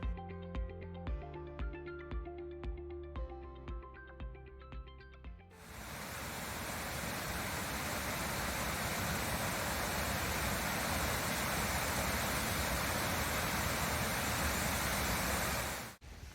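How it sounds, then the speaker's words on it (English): Sandstone Falls in New River Gorge National Park sends up a loud, continuous roar of rushing water that starts abruptly after a few seconds of quiet instrumental music and stays steady and close until it cuts off. "gonna go take a look at this sandstone waterfall area."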